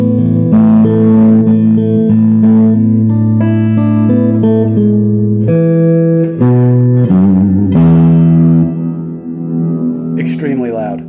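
An electric guitar runs through an Orange Crush Pro 120 solid-state head set to hall reverb, playing loud sustained chords and single notes with long reverberant tails, with no talking.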